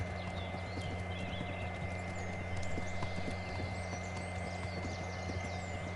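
Horse hooves pound in a steady galloping clip-clop from the video game Kingdom Come: Deliverance, rhythmic and close over a constant low hum, with no speech.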